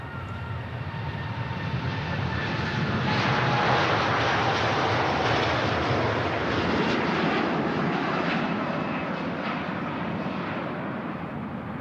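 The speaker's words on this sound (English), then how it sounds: "Let's enjoy this Gulf Air departure." Gulf Air jet departing Manchester Airport, a loud, sustained engine roar that swells and holds steady across the whole stretch, broadband and rumbling, with no voices over it.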